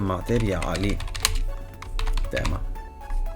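Someone types a folder name on a computer keyboard: rapid, close key clicks run beneath someone talking in Italian, who keeps talking throughout.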